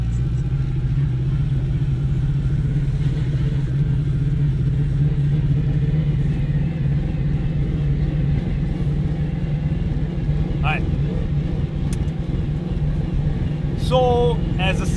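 Heard from inside the cabin, an 800-horsepower all-wheel-drive turbocharged Acura RSX Type-S rumbles under load, a loud, steady low drone with a few brief sharp chirps near the end.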